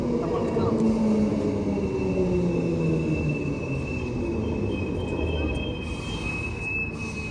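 A train runs on the newly opened Thornlie–Cockburn railway line, making a loud, continuous rumble with faint wheel squeal that stays steady and close, then eases slightly toward the end.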